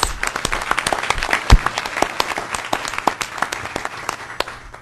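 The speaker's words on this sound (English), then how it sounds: "let's give her a round of applause" Applause at a regional board of directors meeting rises for a departing member, a room of people clapping steadily with crisp, distinct hand claps throughout, a single louder thump partway, no voices over it.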